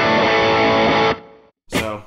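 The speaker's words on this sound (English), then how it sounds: "Then we can throw the tube screamer on top of that." Electric guitar through a Tube Screamer pedal into an AC30-style crunch preset on an amp modeller, a loud sustained distorted chord ringing out, cut off, then a fresh strum.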